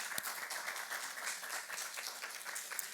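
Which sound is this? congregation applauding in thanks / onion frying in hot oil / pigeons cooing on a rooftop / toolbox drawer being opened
congregation applauding in thanks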